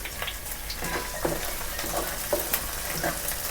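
Thin-sliced green chillies and carrots frying in a pan for Hyderabadi bagara rice, giving a continuous sizzle with scattered light clicks and scrapes of stirring throughout.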